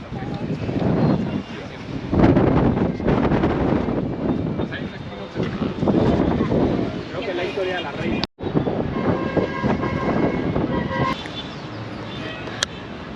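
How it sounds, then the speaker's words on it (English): Strong gusty wind buffeting the microphone on a hot coastal walk near Cartagena, a steady rumbling roar that swells and dips throughout, with a brief dropout midway. "Really hot, quite windy."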